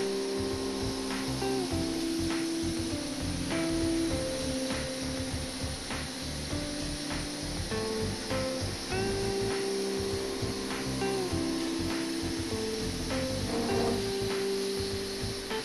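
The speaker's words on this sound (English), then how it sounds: "A chattering noise can be heard at the corners." A milling cutter chatters at the corners while machining at 200 m/min cutting speed, 1,390 mm/min feed and 1.5 mm depth of cut, a steady loud grinding whine broken by recurring harsh rattling bursts.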